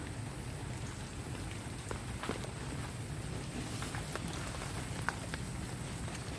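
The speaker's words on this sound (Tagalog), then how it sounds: "Maulan pa din siya." Heavy rain falling on a garden, a dense continuous hiss with scattered louder drips and patters, steady throughout with no voices.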